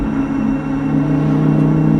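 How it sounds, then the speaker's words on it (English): A loud, steady engine drone from a modified Performante Spyder sports car, with a deep rumble and a low whir, held at an even pitch throughout. "before we get to the highways, you can really hear the engine."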